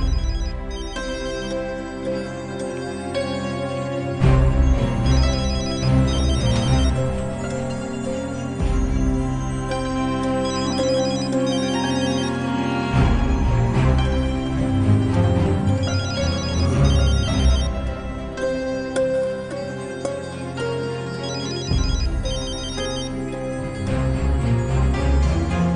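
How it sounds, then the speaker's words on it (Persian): A telephone rings with a musical ringtone during a Tajik TV drama, the melodic pattern repeating loud and continuous over about 26 seconds with no speech. "از اونجا تلفن صدا میدهد."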